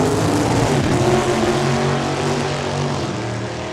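An old-school Camaro drag race car making a test run at Saskatchewan International Raceway, giving a loud, sustained engine roar heard close by that eases off slightly toward the end.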